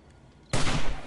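One loud, abrupt gunshot bursts out after half a second of quiet in the zombie survival game 7 Days to Die, followed by a brief crackling, reverberant tail.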